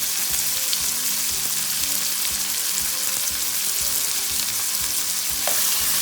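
Seasoned ingredients for Turkish menemen fry in a pan with a steady, close sizzle and crackle throughout, with faint stirring scrapes and no voices.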